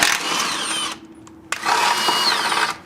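A power tool whirs in two close, loud bursts with a brief pause between them, undoing the shock absorber bolts under a 1967 Chevy Impala.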